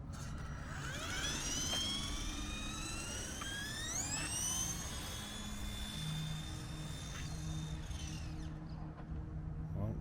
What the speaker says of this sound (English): This is our test run with the slot machine brush motor.